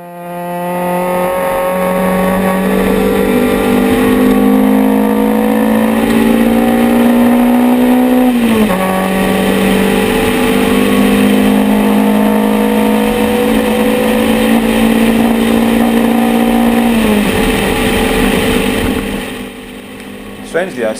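Rally car at the 2014 Bulawayo rally closing on slower traffic, including a Toyota: a loud, close engine drone held at high revs with two gear changes, with a voice talking over it.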